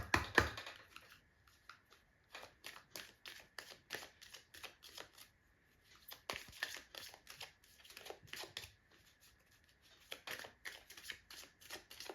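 Tarot cards being shuffled by hand, a quick series of soft papery riffles and taps repeating in bursts for about twelve seconds, close and fairly quiet with brief pauses between runs.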